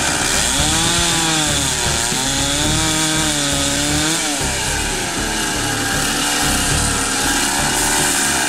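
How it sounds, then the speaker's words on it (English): A chainsaw with a special blade runs continuously at close range, its engine pitch wavering as it scores rock around a mosasaur fossil, loud and unbroken. "a chainsaw with a special blade is used to score the area around the fossil"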